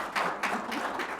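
Brief burst of audience applause at a tribute ceremony for a judge, a few quick swells of clapping lasting only a moment.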